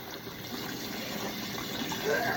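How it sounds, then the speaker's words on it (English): A kitchen tap runs steadily as rubber gloves are rinsed under it, a soft close gush of water with faint splashing. "rinse off the gloves, put it down the counter"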